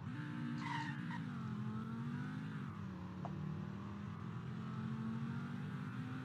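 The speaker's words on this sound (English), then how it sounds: "I'm gonna do a full send launch down this road." A car in the Roblox game Greenville launches hard from a standstill, its tires skidding and squealing over a steady, loud engine drone that holds for several seconds with no talking.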